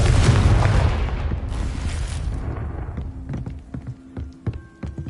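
Confringo spell in Hogwarts Legacy bursting in a loud, close explosive boom that rumbles and decays, followed by scattered crackles and small pops.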